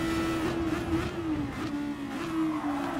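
Race car engine in GT Sport, a steady high-pitched drone held at a constant pitch with slight dips, loud and continuous, close and without voices.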